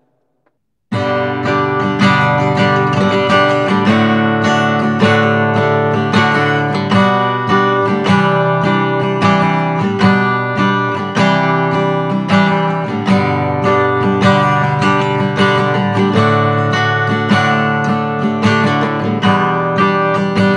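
Cowboy GW 240 acoustic guitar in natural finish, its body sound captured through a condenser mic, playing continuous strummed chords with picked notes for about twenty seconds, full and close with no talking.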